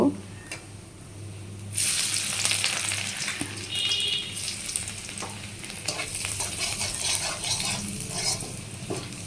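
Chopped garlic with cinnamon and small cardamom fries in a pan, giving a loud, steady sizzle that starts sharply and continues with scraping stir strokes throughout, close up.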